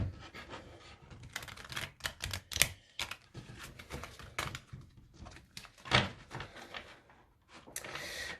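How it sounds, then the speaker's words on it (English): Affirmation cards being shuffled by hand, giving a series of uneven papery riffles and slaps at close range, with brief pauses between bursts and no talking. "These are like the worst cards to shuffle"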